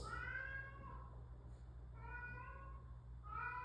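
A pet cat named Akiko meows repeatedly in the background, with three drawn-out, crying calls over a quiet room hum, faint and somewhat distant.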